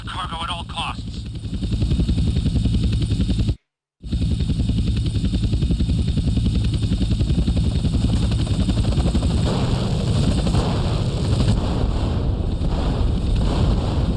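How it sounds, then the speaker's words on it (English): Helicopters in GTA San Andreas thump steadily during a mission, their low rotor chop joined by wind noise and a voice talking over it, with a brief total cutout early on. "2 agency choppers coming in on an intercept"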